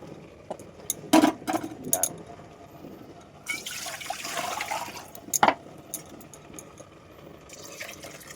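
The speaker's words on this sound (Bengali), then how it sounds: "এবার এর মধ্যে ধুয়ে রাখা চালটা দিয়ে দেবো" Washed rice being added to nearly cooked boiling lentils for a vegetarian khichdi, heard as moderate pouring, splashing and watery trickling in a home kitchen, with a few sharp clinks at the start and a longer wet rush midway.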